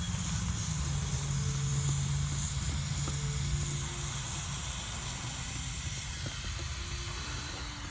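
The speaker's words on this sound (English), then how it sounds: "So I'll put it at 10 psi and let you hear the leak." A boost leak on a Porsche 944 Turbo intake, pressurized to 10 psi, hisses loudly and continuously at close range, with a brief low tone early on and small changes as the fitting is wiggled.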